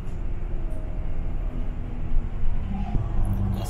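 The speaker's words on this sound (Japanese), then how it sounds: "あそこに電車が今通った" A train rolling past near a bus stop by Sincheon station in Daegu, a steady low rumble and clatter that swells slightly toward the end, heard amid street noise with no talking.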